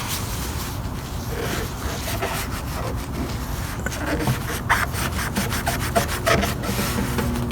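Steady rubbing and wiping of a cloth over a plastic fuel cap with cleaner, using a white t-shirt on an older Toyota cap, a continuous close scrubbing texture with occasional louder strokes and no talk.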